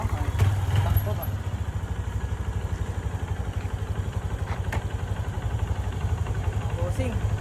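A Honda CRF 150L motorcycle engine runs at a steady idle, putting out a low, even putter close by while someone talks over it.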